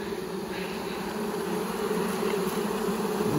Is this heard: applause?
no